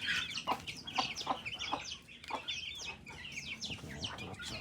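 Laying hens in a hen house cluck and cackle continuously at close range, with overlapping calls in an uneven, busy rhythm.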